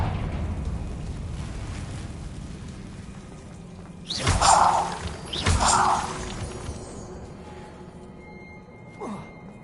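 Two sharp fiery blasts from the Confringo fire spell in Hogwarts Legacy, each a loud crackling burst a second apart, over a steady ambient game backdrop with a faint pop near the end.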